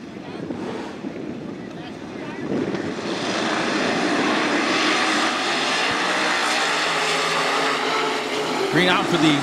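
A pack of 305 sprint cars takes the green at Attica Raceway Park, engine roar swelling from a quieter start into a loud, sustained racing din, with a voice faintly mixed in.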